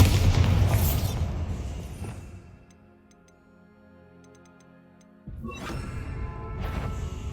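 A Bombarda explosion spell cast in Hogwarts Legacy, bursting as a loud boom that fades into a quiet ticking lull before a second blast erupts, both close and heavy with no talking.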